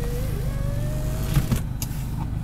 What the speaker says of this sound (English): That window works nice and fast.